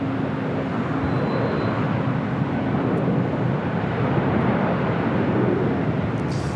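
An Airbus A330-200 airliner arriving at LAX, a steady, loud broadband jet roar that stays even and unbroken throughout.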